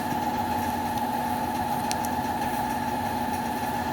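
A motorcycle engine in a video game idles in a constant, steady drone with a strong mid-pitched hum, and no voices are heard over it.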